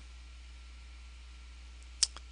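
A computer mouse gives a single sharp click near the end, followed by a softer second click, against a quiet, low background hum.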